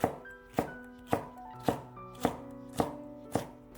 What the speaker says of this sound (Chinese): 接下来准备半个青椒，先切成细丝